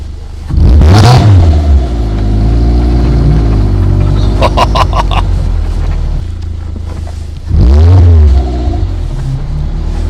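A 2019 Caterham 275 S sports car engine revs up while driving, with loud surging acceleration swells and a sustained engine drone in between, heard up close with no talk.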